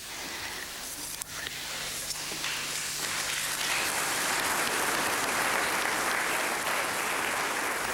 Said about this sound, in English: everybody just stood up spontaneously and applauded